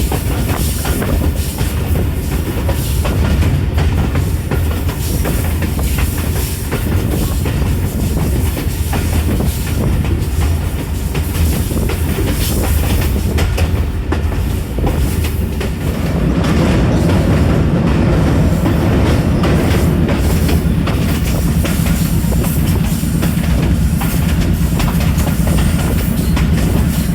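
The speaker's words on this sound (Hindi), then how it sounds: "हमारी ट्रेन तकरीबन 55 या 60 किलोमीटर तक बुक स्पीड के ऊपर जाएगी" Bulleh Shah Passenger train running on the rails at around 60 km/h, a steady loud rumble with rhythmic clickety-clack of wheels over rail joints and a low hum that deepens and strengthens in the second half; no talking.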